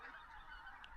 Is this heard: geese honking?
yes